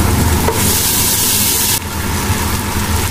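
Ginger garlic paste fries in hot oil with a loud, bright sizzling hiss, which swells sharply and then drops back as it is stirred amid scraping and clatter.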